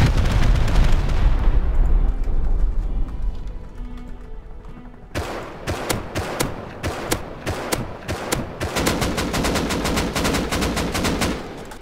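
Rocket raid in the survival game Rust: a heavy explosion rolls out and fades, followed by rapid bursts of sharp gunfire cracking in quick succession, loud and close.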